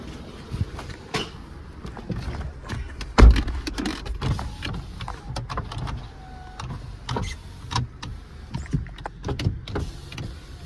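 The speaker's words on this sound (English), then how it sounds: "All the windows go up and down" Power windows on a car running up and down, a series of motor whirs and clunks with scattered knocks and one loud thump, close and fairly quiet, no voices.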